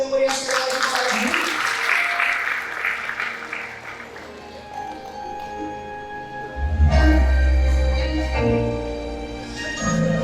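An audience at a Semarang inauguration ceremony claps after a dance, a broad wash of applause that gradually fades. Music with a deep bass line then takes over.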